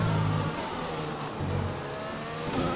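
An F1 car engine in F1 2020 on the Azerbaijan Grand Prix qualifying lap, a steady high-pitched roaring whine with shifting pitch as it accelerates, loud and close with no talk over it.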